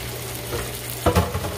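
Water is poured into a hot pot of Jamaican-style curry crab, a steady sizzling hiss that breaks into a sudden louder splash and bubbling near the end.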